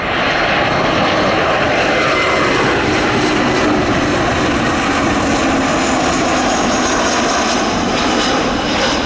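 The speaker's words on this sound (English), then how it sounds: "This Airbus A321 was the only Delta flight I saw the whole time I was there." A Delta Airbus A321 airliner at O'Hare International Airport gives a loud, steady engine roar that fills the whole clip with broadband rushing noise, near and continuous, with no voices.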